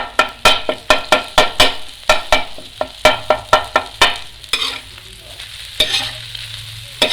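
Beef qeema is mashed and stirred on a hot tawa with garlic, giving a steady run of sharp, rhythmic spatula scrapes and taps over a constant close sizzle, with the strokes easing off partway through.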